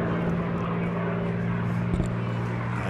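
A P-51D Mustang named "Warhorse" roars past on a display pass, a loud, steady droning propeller engine note with low harmonic hum, heard alone without speech.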